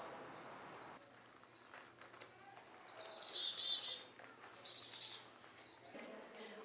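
Small birds chirp at feeders around a school yard, with several bright, high tweets and short trilled bursts coming in separate clusters, fairly faint against a quiet outdoor background.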